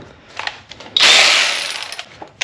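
A power tool drives down an 8mm bolt during a cylinder head temperature sensor replacement on a 2010–2014 Ford Fusion: a single loud, close burst of whirring lasting about a second, set between faint clicks and handling noises.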